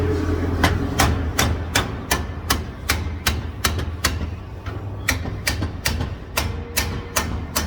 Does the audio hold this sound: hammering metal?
yes